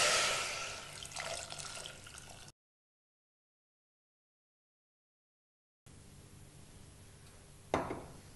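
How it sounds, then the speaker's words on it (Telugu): Water pours from a tap into a pressure cooker holding cut potatoes, a steady rushing splash that stops, falls silent, then returns more softly with a brief closer gush near the end. "సరిపడా నీళ్లు పోయాలి."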